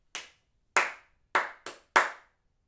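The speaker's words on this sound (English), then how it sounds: "For instance, if I clap, you might clap the rhythm back to me." Hands clap out a rhythm: five sharp, close claps with a short gap between the last two, each ringing briefly into silence.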